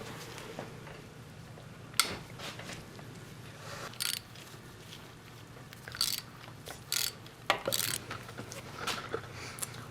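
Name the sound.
ratchet wrench clicking while loosening engine bolts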